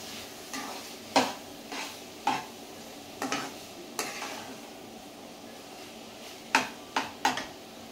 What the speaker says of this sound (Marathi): मिक्स करून घेणार आहोत आपण हे व्यवस्थित.